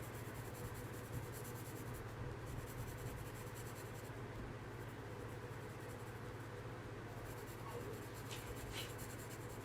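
A pencil scratches and rubs on paper during a 3D drawing, a faint and steady close-up sound of shading and smudging that continues under a constant background hiss.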